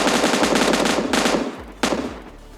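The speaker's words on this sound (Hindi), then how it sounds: "फिर मैं सोचा अब तो डायरेक्ट फाइट लेंगे इससे M249" Rapid, loud bursts of M249 machine gun fire in the mobile game PUBG Mobile Lite, two sustained volleys separated by a brief pause, with no talk over them.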